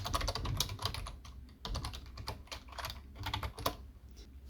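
Java code typed on a computer keyboard, with rapid irregular key clicks in bursts and brief pauses, close and clear with no talking.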